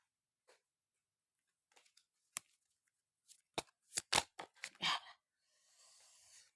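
Playing cards are handled with sparse, sharp snaps and taps, then a quick cluster of crisp riffling bursts, ending in a soft, sustained shuffle rustle. The sounds are close and quiet, with no voices.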